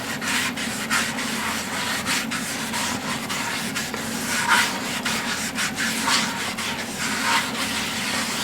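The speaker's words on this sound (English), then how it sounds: "Again, wet and dry sandpaper." Wet and dry sandpaper rubs back and forth over a surface in a steady, fairly quick rhythm of scratchy strokes, close and moderately loud with no one talking.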